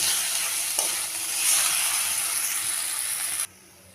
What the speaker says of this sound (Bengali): এখন ভালো করে এটা কষিয়ে নেব।